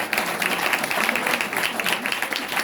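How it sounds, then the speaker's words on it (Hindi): Steady, full applause from a church congregation cheering for Jesus Christ during a worship service, dense clapping at even volume throughout the short stretch. "भरपूर तालियां यीशु मसीह के लिए।"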